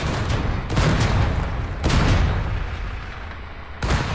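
Tank cannon fire and explosions from the Tank Company mobile game, heavy booming bursts roughly every second over a constant rumbling battle background, with no talk.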